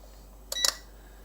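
A multimeter on an electronics workbench gives two quick, close, high-pitched electronic beeps in a row against a quiet background.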